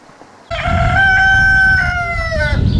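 A loud rooster crows once in a long, drawn-out call close by, with hens clucking and farmyard noise underneath.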